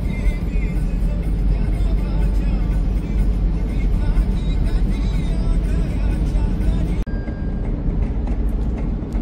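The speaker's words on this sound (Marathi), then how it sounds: "आता गाडी पेट्रोलवरती स्विच करून चालवत आहे" A Tata Punch car running on petrol after its CNG supply ran out, cruising on a highway with a steady, loud rumble of engine and road noise that barely changes throughout.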